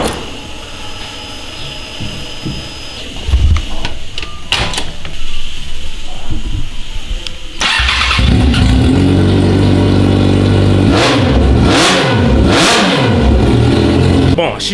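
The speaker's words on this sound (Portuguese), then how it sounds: "XJ tá dando uma esquentada ali" A Yamaha XJ6 motorcycle with a troubled engine starts and warms up, first a lower idle, then a louder steady run with revving swells from about eight seconds on, with a voice speaking over it.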